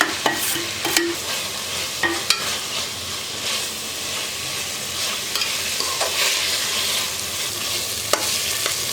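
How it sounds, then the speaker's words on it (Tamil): Three large onions, sliced thin and long, sauté in a pan for cauliflower biryani, with a steady loud sizzle broken by sharp, irregular clicks and scrapes of the stirring spoon, close by. "மூணு பெரிய வெங்காயம் எடுத்து நல்லா மெல்லிஸாக நீளமாக கட் பண்ணி வச்சுருக்கேன் அதை ஆட் பண்ணி இப்போ நம்ம நல்லா வதக்கிக்கலாம்"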